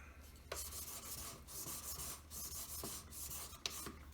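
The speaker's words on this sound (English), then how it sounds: "Keep buffing until you've got all the file marks out." Handmade wedding ring being buffed to remove file marks, a faint, close rubbing and scraping with irregular strokes and occasional sharper clicks, heard alone.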